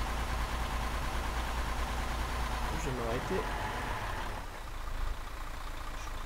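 In the Arma 3 AltisLife game, a vehicle engine idles with a constant low drone throughout, while someone briefly speaks over it.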